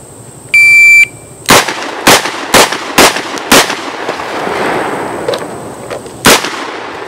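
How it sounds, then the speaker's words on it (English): Six sharp, loud gunshots from a Smith & Wesson Magnum revolver fired at bottles outdoors, the first five in quick succession about half a second apart and the last after a pause, preceded by a brief electronic beep. "I'm gonna fire 6. So keep your eyes on the bottles, guy."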